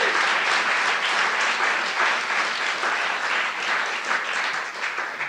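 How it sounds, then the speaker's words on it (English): A crowd applauds the volunteers at the close of an event, a dense, steady wash of many hands clapping continuously without a break, loud and unbroken throughout. "So if we can have a big round of applause for the volunteers."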